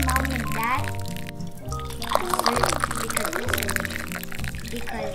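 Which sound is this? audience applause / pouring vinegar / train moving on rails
pouring vinegar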